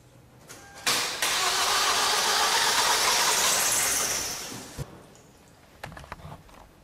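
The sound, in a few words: car engine starting and running with a coolant combustion leak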